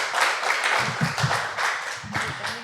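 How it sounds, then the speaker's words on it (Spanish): Applause from a studio audience for singer Bella at a commented audition show, a steady wash of clapping with some lower thumps, moderately loud and continuous throughout. "Último aplauso para Bella, porfa"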